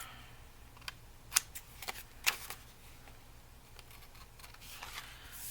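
Scissors trim paper for a rose mini giant paper bag journal, producing a few crisp, sharp snips spaced irregularly among soft paper rustles, close and quiet, with no speech.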